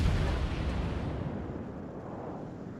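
Naval guns firing in World of Warships, likely from the cruiser Perth: a dense, booming low rumble of cannon blasts that rolls on steadily and fades slightly, with no voices.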